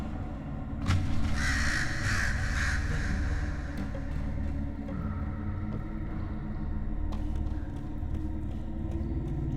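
Crows caw loudly and repeatedly from nearby rooftops, harsh calls layered over a steady low rumble of background noise.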